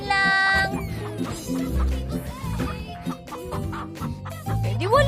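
A chicken clucks in short, rising bursts, fairly loud and close, with some fuss and movement around it.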